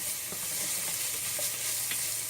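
Onions frying in a pan for a mung bean coconut curry, a steady close sizzle with light stirring scrapes now and then, and no voices.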